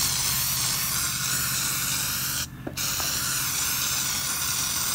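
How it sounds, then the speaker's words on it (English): A steady spray of insecticide onto the ground hisses continuously, briefly cutting out for a moment before resuming, close to the listener. "So what I'm doing is I'm spraying the ground where the boards came from"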